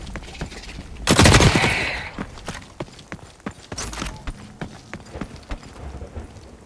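A suppressed Scarab rifle firing in The Cycle: Frontier, a burst of muffled gunfire near the one-second mark followed by another short volley and scattered lighter thuds, with no speech.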